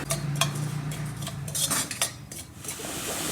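Semolina being dry-roasted in a pan for a jaggery poli sweet, with a spoon scraping and clinking against the metal in steady, close strokes over a low background hum; no one speaks.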